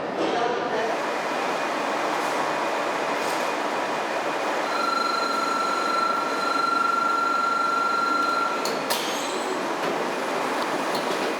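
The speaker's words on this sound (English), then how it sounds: "You're seeing are two high-speed trains getting ready to connect." Two high-speed trains close in to couple, producing a loud, steady rushing roar with a thin, sustained high whine that rises partway through and then cuts off.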